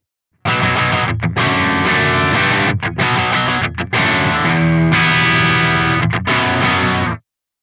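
A distorted electric guitar plays loud, overdriven chords and riffs through a Soldano SLO-100 tube amp, with brief pauses between phrases, ringing out alone.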